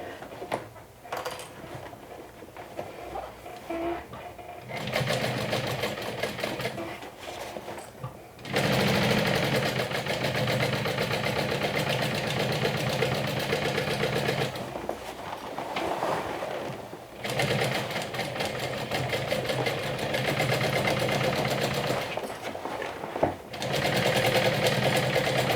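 A sewing machine stitches a second circular seam on a fabric bag, running in steady, close-up bursts of rapid mechanical chatter. Short pauses separate the runs, and the longest continuous stretch sits in the middle.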